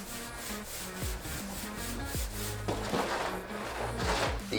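A speed clay bar is rubbed back and forth over gritty, neglected car paint, giving a close, rough scraping friction in repeated strokes.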